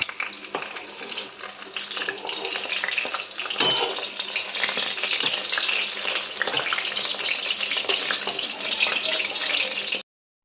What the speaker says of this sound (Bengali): আর এখানে দেখো কত সুন্দর আমি পকোড়াও বানাচ্ছি পুঁইয়ের পাতা দিয়ে।